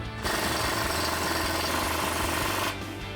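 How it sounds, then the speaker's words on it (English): Impact gun driving a 15mm bolt through an extension and swivel socket during a strut install on a 2011-2019 rear-wheel-drive Charger, a loud, close, continuous rapid hammering burst lasting about two and a half seconds before stopping. "Now with the help of my impact gun, an extension, and a swivel 15mm, we can get this bolt in."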